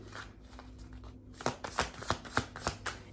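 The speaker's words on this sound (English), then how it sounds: "Let's get one last card for the collective." Tarot cards shuffled and drawn, a soft riffle followed by a run of about seven crisp card snaps or slaps at a steady rhythm, close and fairly quiet over a faint steady hum.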